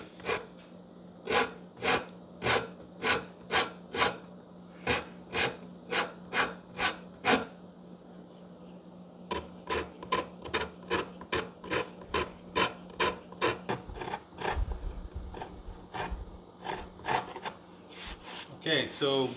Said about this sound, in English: Now that I got that volute fixed, I'm going to go ahead and shape it out.